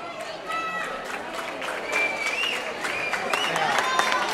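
Crowd applause at an end-of-festival prize giving for pétanque winners in Azagra, dense steady clapping with whistles and voices mixed in, fairly loud throughout.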